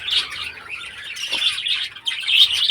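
A pair of caged birds chirps and tweets in quick, bright bursts close by, calls overlapping with short gaps between flurries and no talking.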